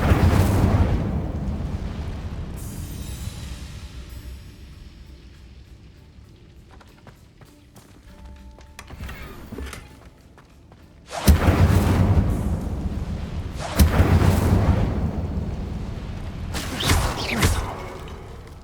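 Incendio fire spell cast in the Hogwarts Legacy video game, heard as sudden loud whooshing bursts of flame, one large blast followed by a second a few seconds later, over quieter game ambience.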